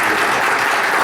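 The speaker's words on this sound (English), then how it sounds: "it deserves an applause of doing it" Attendees at a mayor's round table meeting on homelessness clap together in a brief, dense burst of applause lasting about a second.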